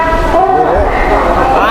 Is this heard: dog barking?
no